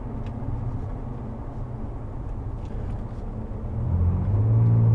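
A 2024 Ford Ranger Raptor with a valved exhaust drives along, its engine giving a steady low rumble from inside the cabin that swells toward the end as it accelerates.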